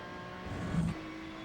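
Ferrari 296 GT3 engine in iRacing at Magny-Cours, a short steady engine tone that swells briefly as the throttle comes back on, heard alone.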